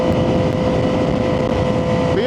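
Triumph 675SS motorcycle with a full IXIL exhaust cruising on a highway: a steady, loud engine drone buried in constant wind rush, unbroken throughout.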